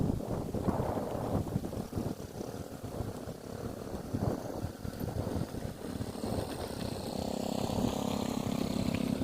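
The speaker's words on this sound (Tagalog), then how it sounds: "Ang lakas ng hangin." Strong wind buffeting the microphone of a DJI Mini 3 drone in flight, a loud, continuous rumbling roar with gusty fluctuations and a faint propeller whine underneath, steady throughout with no voices.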